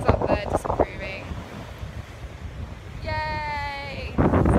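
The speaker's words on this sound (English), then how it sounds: "So it's pretty windy." Low, blustery wind rumble buffets the microphone throughout, with a bleat-like tonal cry in the middle and brief voices at the start and end.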